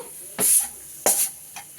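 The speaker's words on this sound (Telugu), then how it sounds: "ఇలా మనము తాలింపు వేసేసుకున్నామండి" Tempering for bottle gourd dal hitting hot oil, two sharp hissing sizzle bursts close up, each fading over a fraction of a second, then a faint third.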